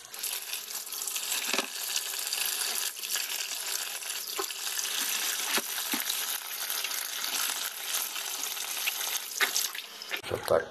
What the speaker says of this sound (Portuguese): Eu só vou jogar água agora. Dar uma balançada na bacia.